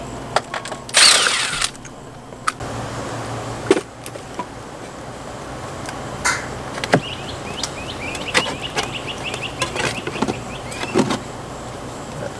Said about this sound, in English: take your screw gun and remove the screws